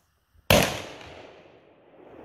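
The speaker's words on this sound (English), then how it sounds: "So I'm going to shoot another 3-inch shot just to show the recoil." A short-barreled .410 shotgun fires a 3-inch shell at an outdoor range, one sharp loud blast with a long fading echo after a brief quiet start.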